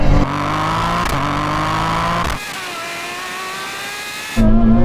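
A Ferrari Superfast accelerates hard in a drag race, its engine rising in pitch through two gear shifts before a drop, then surging again, loud and close with no talk.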